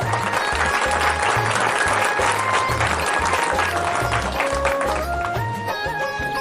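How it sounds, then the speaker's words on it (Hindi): An audience at a Bhojpuri Alha performance on Babasaheb Ambedkar welcomes performers with loud, sustained applause, steady clapping over a rhythmic low drum beat and lingering musical tones. "तालियों से स्वागत।"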